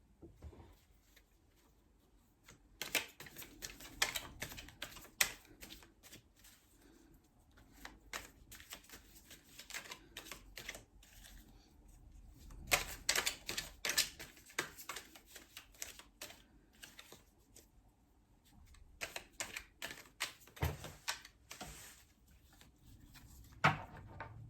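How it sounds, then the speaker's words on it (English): Quiet, repeated riffling and flicking of tarot cards in bursts, with soft slaps as cards are laid down on a surface, close by. "you can see me shuffling and laying the cards out"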